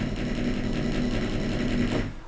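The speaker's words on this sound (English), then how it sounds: "a buzz roll, a closed roll, is like this" A drum buzz roll, also called a closed roll, is a continuous dense rattling press roll on a drum, held evenly for about two seconds and close, stopping abruptly at the end.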